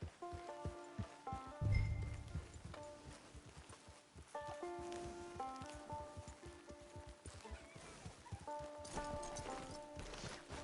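Horse hooves clip-clopping in the video game Red Dead, a steady rhythmic walking beat of many close hoof strikes continuing throughout, with game music tones and faint background sounds.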